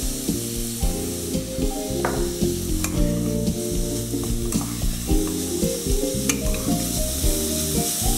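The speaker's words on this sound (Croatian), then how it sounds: "Korijenasto povrće se dulje pirja, pa smo ga prvo stavili u tavu." Root vegetables sautéing in a frying pan for a soy bolognese, a steady sizzle with a spoon scraping and stirring through it, close and continuous, no voices.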